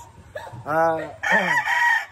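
A rooster crows twice at close range, each call a loud, stretched, harmonic cry, with faint background noise between and no talking over the calls.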